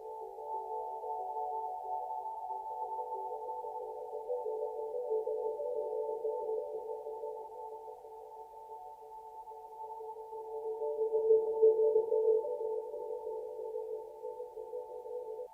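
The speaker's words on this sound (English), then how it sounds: "having two of these basically just results in these sort of occasional stuttery ambient effects coming" Two layered cello tracks blur into a sustained, droning ambient wash, low and steady, with occasional stuttering swells and a darker surge near the end; no voices.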